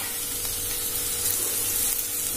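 Prawn masala mixture for dosa frying in a hot pan, a steady loud hiss and crackle of sizzling oil that holds evenly throughout, close up with no voices.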